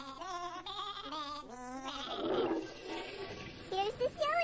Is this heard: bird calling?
no